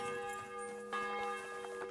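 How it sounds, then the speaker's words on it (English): Church bell ringing in Kingdom Come: Deliverance II, a sustained, resonant peal with steady overtones and a fresh strike near the middle, heard alone without talk. "Can y'all shut up with that bell?"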